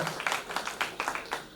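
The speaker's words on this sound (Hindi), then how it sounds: "एक बार जोरदार तालियां होनी चाहिए" An audience at a talk with a Bihar IAS officer and poet gives a short burst of applause, steady overlapping claps at moderate loudness that fill the room, with no speech over them.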